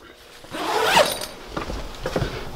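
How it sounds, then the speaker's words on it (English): A zipper is drawn closed on the fabric door of an Otter XT Pro Lodge ice shanty. It gives one close, rising zip that peaks at about a second, followed by faint rustling. "once I take this door and zip it"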